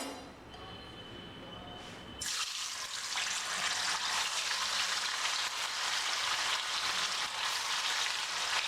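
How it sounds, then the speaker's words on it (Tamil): Soaked bitter gourd slices dropped into hot oil for chips, a quiet kitchen suddenly erupting into loud, steady bubbling sizzle that continues close and unbroken. "இப்போ எண்ணெய் நல்லா காஞ்சிருச்சு இப்போ ஊர்ன பாக்காய் எடுத்து போடலாம்"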